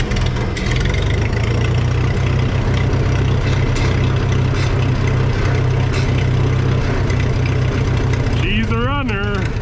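A vintage Red Power tractor at an auction runs with the choke pulled well on and a carburetor needing cleaning. It holds a steady, loud, low idle close by, with a voice briefly heard near the end.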